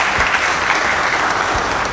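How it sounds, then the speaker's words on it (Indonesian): A brief burst of loud, dense crowd applause for Pak Bayu at a military and religious leaders' gathering, steady clapping close by throughout. "tepuk tangan dulu untuk Pak Bayu."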